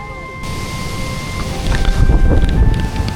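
Strong wind roars into the microphone during a storm at a bike camping spot in Tanay, a continuous loud buffeting rush that swells louder toward the end.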